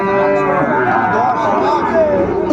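Cattle moo loudly and close at a bull market selling Sahiwal bulls, with one long drawn-out low call filling the clip over a murmur of crowd chatter.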